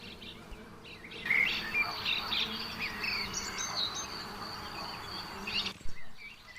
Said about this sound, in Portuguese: viram várias abelhas em algumas flores